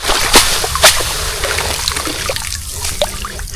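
A large freshly caught crab is rinsed under water, loud close splashing and trickling with a couple of sharp splatters early on, then a lighter steady dribble.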